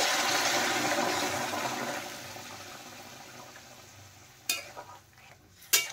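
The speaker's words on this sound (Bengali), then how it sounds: "এখন আমি জল দিয়ে দেব। দেখেন দিয়ে দিলাম জল।" Water poured into a pan of frying puti fish curry with potato and radish, a loud sizzling hiss that gradually fades, followed by a couple of sharp utensil clicks near the end.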